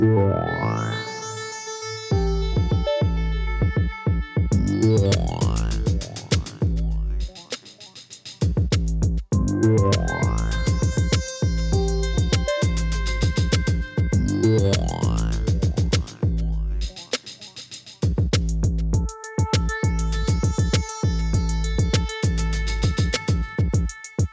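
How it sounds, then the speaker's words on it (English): Electronic beat built in Serum with deep booming 808 bass, crisp rapid layered hi-hats and a snappy snare, backed by synth stabs, loud and continuous with a few brief drops. "we have our percussion drum rack, which is a few layers of hi-hats and a snare"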